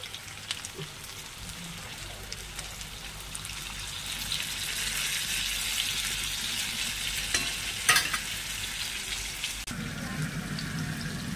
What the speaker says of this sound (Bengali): পটলটা তো ভাজা ভাজা হয়ে গেছে